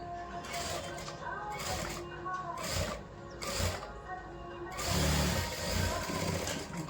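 A sewing machine runs a double stitch along the shoulder seam of a cross-cut blouse in short mechanical bursts with pauses between, close by, while a voice talks over it.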